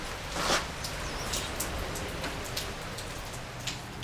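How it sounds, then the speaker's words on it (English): Rain falls steadily in the tropics, a dense, close patter of drops with a few sharper splashes standing out, continuous throughout and unaccompanied by voices. "it's raining"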